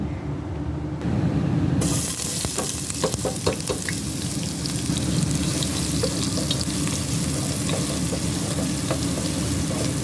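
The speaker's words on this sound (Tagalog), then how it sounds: "gisayin natin ang sibuyas, palabasin ng aroma" Onions sautéing in a pan for peas rice give a continuous close sizzle with occasional stirring scrapes, steady and unbroken throughout with no talk.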